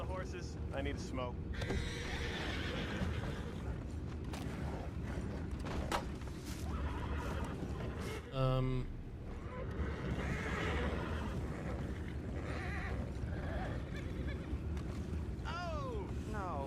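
A horse whinnies once in the middle of a Red Dead Redemption II video game scene, a short rising neigh heard amid ambient game sounds, near the outset of people talking.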